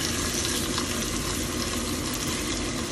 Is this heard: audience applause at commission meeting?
no